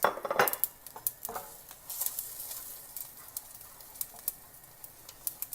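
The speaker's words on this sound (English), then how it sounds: "After letting that stir fry for a minute, I've added in the rice, and now I'm mixing it in with the spices" Rice tossed with curry leaves and turmeric in a pan while cooking chicken fried rice, giving a steady rattle of utensil scrapes and clinks against the pan, close and moderate, with no voices.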